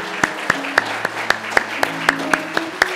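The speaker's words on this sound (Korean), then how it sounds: "우리 다시 한번 박수로 축하하겠습니다." A congregation claps in an even, rhythmic beat to celebrate a Sunday school graduation at a church in Philadelphia, with sustained musical tones running underneath.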